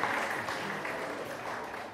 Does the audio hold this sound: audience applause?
yes